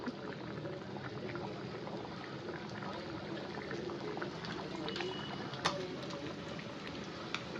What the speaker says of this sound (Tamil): குழம்பு வந்து இப்ப கொஞ்ச நேரம் கொதிக்கட்டும்